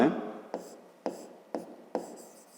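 Chalk or marker writing on a board during a fifth-grade maths lesson, four or five short, evenly spaced strokes, close and quiet in a still room.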